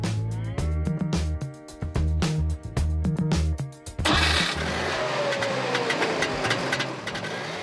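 The two-cylinder, two-stroke 0.6-litre engine of a Trabant 601 runs in the car's front with a buzzy, rattling drone. It follows a rhythmic musical passage and carries on steadily to the end.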